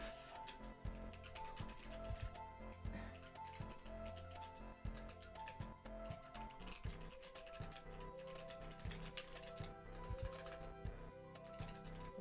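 Typing on a computer keyboard during a live lace-making stream: quiet, irregular clusters of sharp key clicks and taps, close by and faint, continuing throughout without speech.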